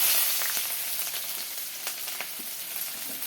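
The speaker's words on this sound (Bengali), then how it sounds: "এই যে পেঁয়াজ রসুন কাঁচা লঙ্কাটা তেলের মধ্যে দিয়ে দেবো" Onion, garlic and green chilli sizzle in hot mustard oil, a steady frying hiss with small crackles and occasional stirring scrapes, close and moderately loud.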